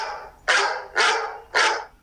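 A dog barks three times in a steady rhythm about half a second apart, each bark loud and close with a sharp onset.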